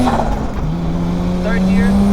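A BMW E30 with a turbo accelerates hard in second gear, its engine note climbing steadily and loudly from inside the car.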